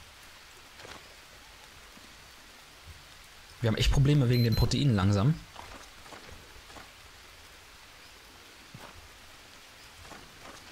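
Steady rain falls in the jungle survival game Green Hell, a soft even hiss running throughout, with someone speaking German briefly over it midway.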